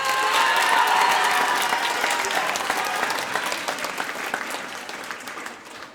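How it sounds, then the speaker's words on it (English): An audience at a middle school spring music program claps in a loud, dense burst of applause that gradually thins and fades over several seconds, with faint crowd murmur beneath. "Will you give her a round of applause?"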